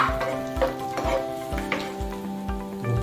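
Garlic and ginger sizzle and fry in a hot pan, a steady crackling hiss broken by regular stirring strokes about every half second, close and fairly loud with no voices.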